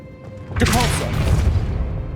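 A Depulso spell fires in Hogwarts Legacy, a sudden broad whooshing burst that swells and lingers as a rumbling, crackling wash for over a second, with game sounds continuing underneath.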